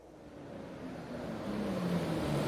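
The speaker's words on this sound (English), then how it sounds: "Sound of an engine brought me back to reality. A bus pulled over." In the video game Everlasting Summer, a bus engine rumbles as the vehicle pulls up, a low, steady drone that grows gradually louder and closer over a couple of seconds.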